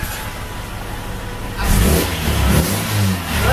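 A straight-piped Ford Escort engine, heard from the front with its tappets prominent, rises into a loud, raw rev midway through after a steady lower idle, then dips and swells again.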